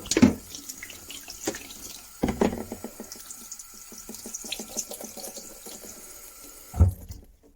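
Tap water runs into a sink as stinging nettles are rinsed in a colander, a steady splashing stream broken by louder sloshes and clatters as the leaves are stirred about, close and with no talk.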